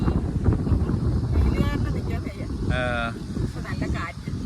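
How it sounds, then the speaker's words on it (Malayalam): Strong wind buffets the microphone in a continuous low roar at Kollengode, Palakkad, while people talk over it. "നല്ല കാറ്റും അടിപൊളിയല്ലേ?"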